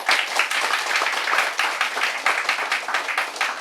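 An audience at a literary lecture event applauds after a song, giving dense, sustained clapping from many hands at an even, fairly loud level throughout, with no talk.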